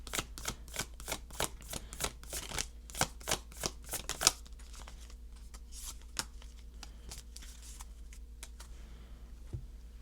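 Cards riffling and flicking from a very stiff angel number deck, a quick run of sharp, close snaps for about four seconds, then quieter scattered shuffling with faint background hum.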